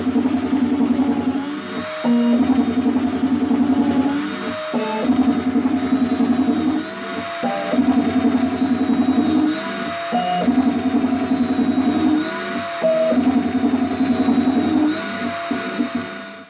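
A CNC machine spot drills a guitar body with a 1/8 spot drill: a steady machine whine with a droning motor, broken by short pauses every couple of seconds as the tool lifts and plunges again, close and loud.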